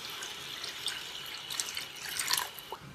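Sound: water poured into wok over fish

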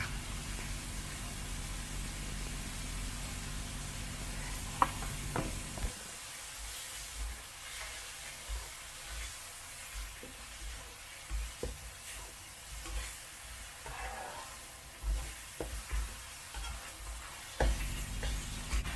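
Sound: stir-frying minced pork with dill and dark soy sauce

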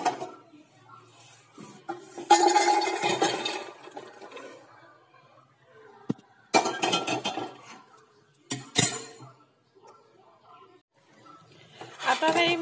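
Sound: pouring fried makhana into a pan

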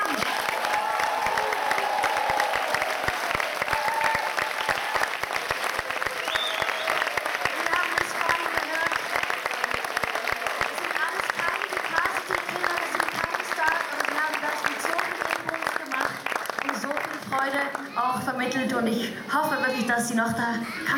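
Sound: audience applause for the children

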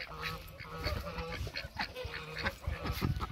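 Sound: ducks quacking

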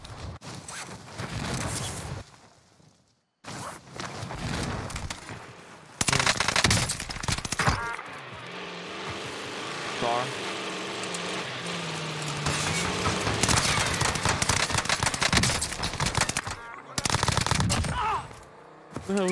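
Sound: gunfire in Warzone video game

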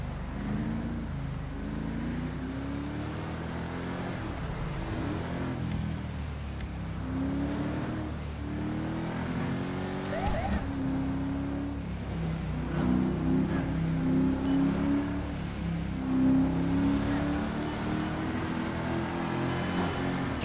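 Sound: Dodge Charger police car engine revving in GTA V video game

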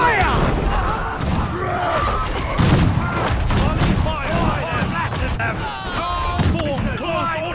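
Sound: musket volley fire in the video game Conqueror's Blade

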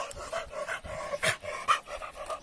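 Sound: large dog panting

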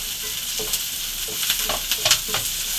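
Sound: onions and curry leaves frying for eggplant stir-fry

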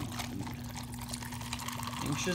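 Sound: pouring a whole can of pineapple juice into a Yeti

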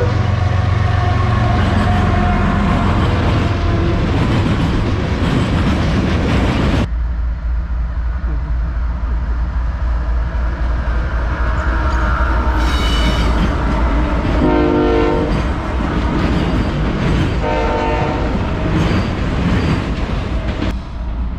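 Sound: train passing by in Folkston, Georgia

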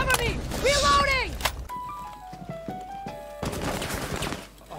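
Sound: gunfire in the video game Rainbow Six Siege

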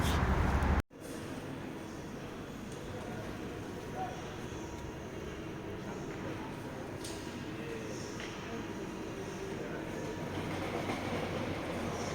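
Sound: train passing

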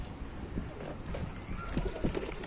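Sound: pigeons

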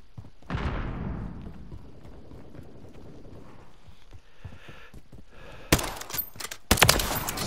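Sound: sniper rifle shots in a video game

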